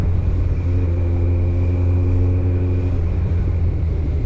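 A Kawasaki ZX-14R motorcycle cruises through busy city traffic, its engine giving a steady, loud low drone with a rising tone partway through, heard close with wind rumble and no talking.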